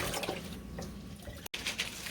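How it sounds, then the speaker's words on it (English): Water sloshes and pours off a bowl of about two pounds of rinsed red kidney beans being washed for stew peas, a continuous close splashing broken by a brief gap. "And we throw off this water and wash again."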